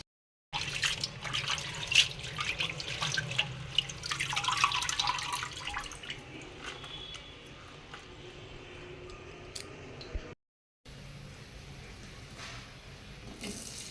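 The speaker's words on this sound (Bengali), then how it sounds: "এগুলো সব পরিষ্কার করে ধুয়ে নিচ্ছি।" Fenugreek greens are washed under a running tap, water splashing and pattering close by with leafy rustles, busiest at first and then settling into a softer flow, with a short break near the end.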